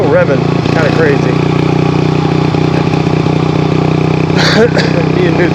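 A 1981 Honda CM200T TwinStar motorcycle engine runs loud and close at a sustained high rev with a buzzy, constant drone that never drops to idle, its throttle cable faulty. No words are spoken.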